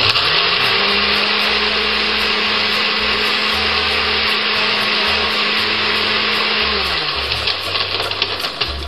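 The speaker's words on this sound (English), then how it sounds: "we're going to have it blended, so we're just going to throw this in" An electric blender whirring continuously through a tropical blended drink, a loud steady motor drone that eases off near the end.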